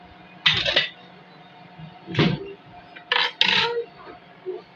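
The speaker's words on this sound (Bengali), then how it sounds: "চুলাটা অফ করে বসিয়ে রেখেছি যাতে গরম থাকে, ঢেকে দেই" A metal lid set over a pot of tea on a switched-off home stove, giving a few sharp close clanks and rattles in separate bursts, with quiet room tone between.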